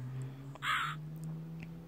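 A single loud, harsh crow caw from the video game Rusty Lake Hotel bursts out midway, over a steady low droning game-music background.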